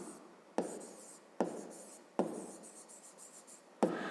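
Pen or pencil writing by hand during a grade 5 math lesson, scratchy strokes in short bursts with sharp onsets at the start of each, close and fairly quiet, no talking.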